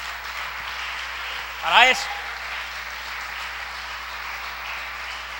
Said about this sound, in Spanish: Un aplauso al Señor esta noche.